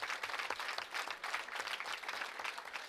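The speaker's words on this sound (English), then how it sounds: "Give her a nice round of applause" Steady applause rises from the audience at a junior bowling championship awards ceremony for an 8-year-old champion who won three handicap-division titles, a dense, even round of clapping lasting a few seconds with no voices on top.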